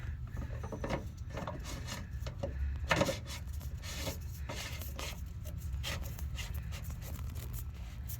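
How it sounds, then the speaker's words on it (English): New fuel filter assembly on a Silverado 2500HD Duramax diesel being screwed on by hand, making quiet, steady rubbing and grating turns with a brief louder scrape in the middle. "take our new filter assembly and put it right back up on there and screw it on."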